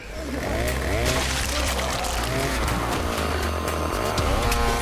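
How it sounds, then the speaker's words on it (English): A loud, continuous chainsaw roar drones throughout from a horror TV series, dense and steady without pause. "That's what she found, was a chainsaw."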